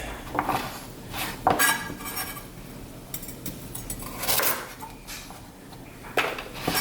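Knife chopping peeled, washed carrots into rounds on a board, with several clustered knocks and clatters at an uneven pace, close and moderately loud, and no talking.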